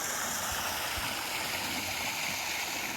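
A small desert stream in Saguaro National Park runs steadily down toward Bridal Wreath Falls, making a constant close rushing and gurgling wash with no talking.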